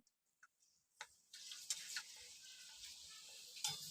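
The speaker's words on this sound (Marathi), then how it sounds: "आता मी तुम्हाला तळून दाखवते तेल आपलं तापलं आहे" Rice kurdai go into hot oil and start frying, a faint ticking onset that swells into a soft, continuous hiss of sizzling with a few crackles.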